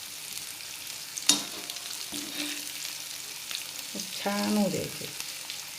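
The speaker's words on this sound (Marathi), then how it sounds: "हे बघा, मस्त फ्राय होत आहेत" Bitter gourd pieces frying in oil over a low gas flame, a steady soft sizzle with occasional stirring clinks and scrapes, while someone talks over it.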